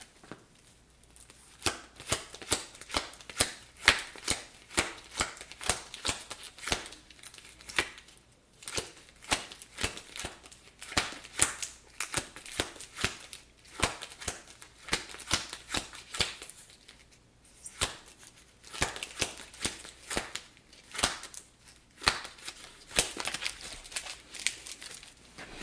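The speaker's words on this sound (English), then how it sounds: "I think I miscounted that, but still, that's a lot of cards for Mr. Robinson." A thick stack of cards is counted by hand, giving a quiet, steady run of soft flicking snaps close by that goes on for about twenty-five seconds with brief pauses.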